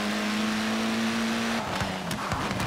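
A car in Forza Horizon 4 holds a steady engine tone, then revs and pulls away, ending in a burst of rougher engine noise.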